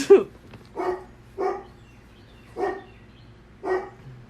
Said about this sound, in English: Your dog's been barking all day.